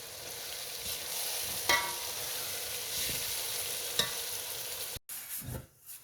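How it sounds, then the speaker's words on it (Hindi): Okra masala roasting in a pan over a slow flame, a continuous close sizzle with occasional stirring scrapes and a brief cut near the end. "आंच कर देंगे स्लो और इसकी भुनाई कर लेंगे"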